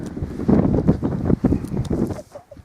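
Strong wind buffets the microphone on an exposed mountain col in Snowdonia, on the walk up Moel Hebog from Beddgelert, coming in loud, uneven gusts and rumbles with no clear speech.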